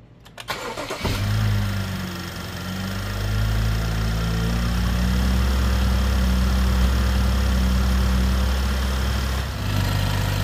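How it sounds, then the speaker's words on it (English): A BMW 3.0L engine cranks briefly, catches, and settles into a steady, loud idle with a deep rumbling hum that continues to the end, in a garage. "Let's uh, do a quick start here."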